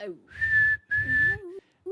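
A voice imitates whistling in two sustained, steady tones, each close and fairly loud and lasting about half a second, separated by a short gap, followed by a lower sliding hum and a brief vocal sound.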